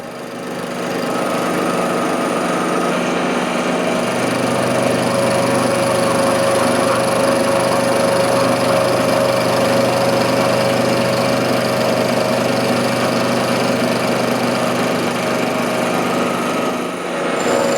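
A carbide 10mm cutter mills a steel part for a 7 1/4 inch steam locomotive reversing lever, giving a steady, loud machine whine with a sustained tone that runs unbroken for the whole stretch, close by.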